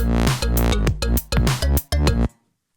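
Three layered synth bass tracks built from a kalimba sample play together in a short bouncy phrase of plucked, bell-like notes, loud and close, then stop abruptly.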